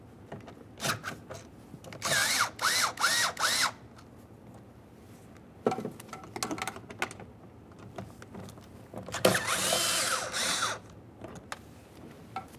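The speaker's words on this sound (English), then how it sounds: "We'll be using a 10mm for these bolts, and you only have to loosen them" Short bursts of a ratcheting tool loosen 10mm bolts on the rear power window regulator inside the door of a 2006-2012 Ford Fusion, with clicking passes close up and quiet pauses between.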